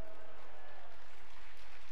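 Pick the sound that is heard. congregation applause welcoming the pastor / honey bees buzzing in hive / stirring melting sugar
congregation applause welcoming the pastor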